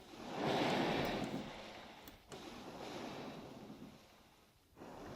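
Wave pool in RollerCoaster Tycoon 3 surging with a broad washing rush that swells early, eases, then rolls in again, steady and fairly soft with no voices.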